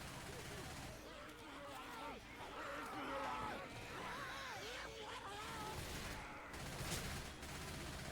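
Rapid gunfire from a Left 4 Dead 2 match, bursts of shots running under talking voices, fairly quiet overall.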